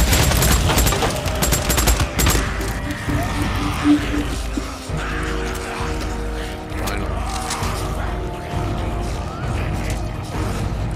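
Gunfire in a shooting video game set around a community college, with rapid automatic bursts and fusillades early, then scattered shots and mechanical noises under someone talking.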